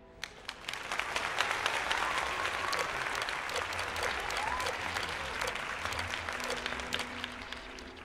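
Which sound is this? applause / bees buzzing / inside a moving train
applause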